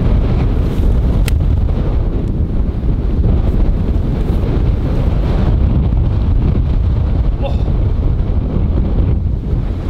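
Strong wind on a golf course buffets the microphone in a loud, steady roar with rumbling gusts throughout and no voices.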